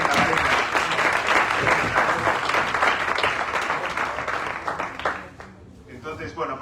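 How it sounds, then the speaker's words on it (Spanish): Audience applause after a reading at a Kerouac festival in New York, dense and sustained clapping from a sizeable crowd that fades slightly toward the end, with speech mixed in. "Marina Oroza, un fuerte aplauso para ella"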